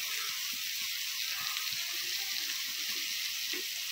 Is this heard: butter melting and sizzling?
yes